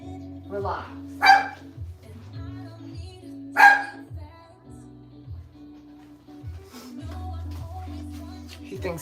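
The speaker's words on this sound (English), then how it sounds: "He thinks he's a guard dog." A toy poodle indoors lets out two loud, sharp barks a couple of seconds apart, followed by softer yips and grumbles, while a person talks nearby between and around the barks.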